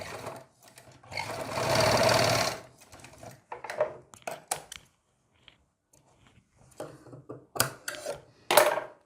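A sewing machine stitches the curve of a round collar neck in short whirring runs, one longer burst then several brief spurts separated by quiet pauses and handling clicks.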